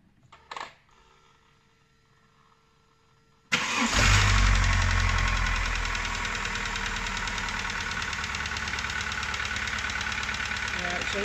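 A VW/Audi 1.4 16v petrol engine, just fitted with a new timing belt, cranks briefly and fires into a loud, steady idle that settles slightly after the first rev, heard up close with no talk.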